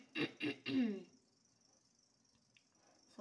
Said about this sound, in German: Sorry, dass ich die ganze Zeit huste